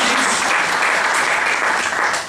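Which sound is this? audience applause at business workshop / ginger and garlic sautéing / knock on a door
audience applause at business workshop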